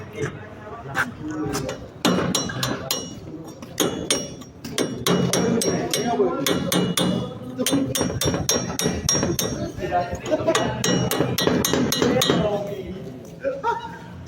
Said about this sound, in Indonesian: Cap chisel berfungsi untuk memahat suatu komponen yang letaknya cukup sulit untuk dijangkau, seperti tempat-tempat sempit.